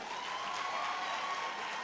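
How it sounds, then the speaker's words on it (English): An audience at a university graduation congregation in Ghana keeps up steady applause, a faint, far-off, continuous patter of many hands clapping with no talk. "Please, the applause should be louder"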